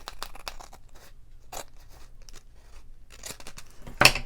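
Scissors trim cardstock scraps for a handmade shaker card, giving a few soft, close snips and crunches with a sharper cut near the end, no talking.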